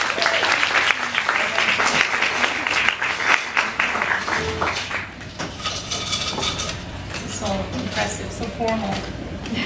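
An audience at a bookstore reading breaks into sustained, loud applause to welcome an author, with bursts of clapping and a few voices mixed in before it thins out.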